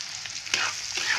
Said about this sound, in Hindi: और ये जो टमाटर हमने रखी है, टमाटर को भी मैं इसमें साथ में डाल देती हूँ।